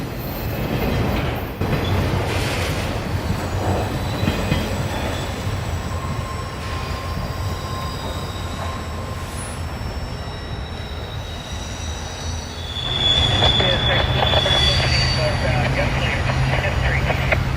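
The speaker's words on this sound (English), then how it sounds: "The auto racks make up about half of this train." A long freight train, about half auto racks, rolls past with continuous rumbling, metallic wheel squeals and faint clacking, growing louder toward the end; a voice speaks over it.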